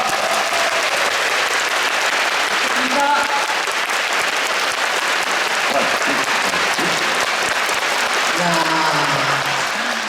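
A large concert audience at a show in Busan claps continuously in a dense, steady wash of applause, with a few voices and cheers faintly mixed in throughout.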